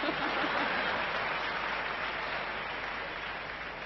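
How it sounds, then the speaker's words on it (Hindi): An audience at a celebration event breaks into sustained applause, a dense wash of many hands clapping that fades slightly toward the end, heard from within the crowd. "मुझे पता था आप बिना बताए तालियां बजाएंगे"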